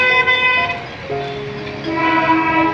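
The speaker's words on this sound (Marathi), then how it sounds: "आणि इथं ट्रेन जाते जुईनगर स्टेशनला." A train passes near Juinagar station in Navi Mumbai, sounding a loud, sustained horn with held tones that dip and then rise again, close by and with no talk over it.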